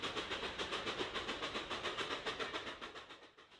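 Southern Pacific excursion train rolling past with steady clickety-clack of wheels over rail joints, a loud, even rhythm of rail and wagon noise that fades slightly toward the end.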